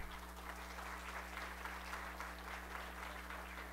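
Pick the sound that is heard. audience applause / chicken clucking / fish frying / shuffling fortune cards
audience applause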